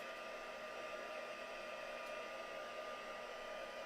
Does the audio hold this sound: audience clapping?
no